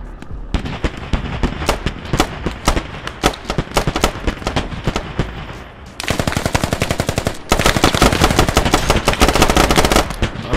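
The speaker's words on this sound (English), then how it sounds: "A lot of fighting going on in this general area." Dense automatic gunfire from a battle in the video game Squad, rapid rattling bursts close and loud, growing more intense and continuous toward the end, with no talk.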